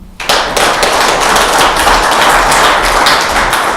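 A loud, dense burst of audience applause for the Zambia High Commission at a community gathering starts abruptly and carries on evenly with many hands clapping at once.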